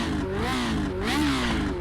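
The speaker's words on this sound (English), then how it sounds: "Love that engine note." A Lotus 79 racing car engine in a video game revs continuously, pitch sweeping up and down through the gears, loud and close with no talking.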